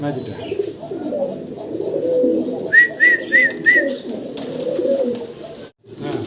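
Pigeons coo from inside a loft, a set of four soft rolling coos close by over a low murmur of voices and background chatter.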